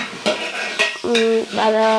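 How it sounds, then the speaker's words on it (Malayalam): A ground coconut spice paste, ground with little water, sizzles and spits as it fries in hot oil, with brief scraping stirs and a few tonal clinks. "അരച്ചെടുത്ത അരപ്പ് വെള്ളം കുറച്ച് അരച്ചെടുത്തിരിക്കുന്നത് ഒന്ന് മൂപ്പിക്കാൻ വേണ്ടിയിട്ടാണ്"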